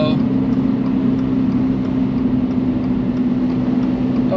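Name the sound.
Audi TT car passing on wet Nürburgring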